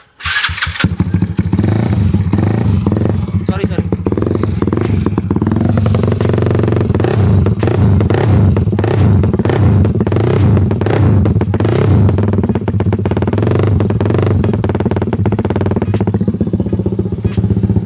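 A Yamaha R6 sport motorcycle recorded close at the exhaust, starting up and then idling and blipping with a loud, rough, rapid mechanical rumble and repeated throttle rises throughout.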